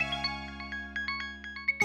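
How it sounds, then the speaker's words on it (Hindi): A mobile phone ringtone chimes in a short, repeating melodic pattern of bright tones over a steady low hum, with no one talking. "ये उसी डिजाइनर का फोन है।"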